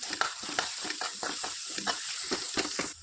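Chickpea masala stirred in a hot pan with chilli powder and spice mix, rhythmic repeated spatula scrapes and strokes over a light sizzle, close and fairly loud.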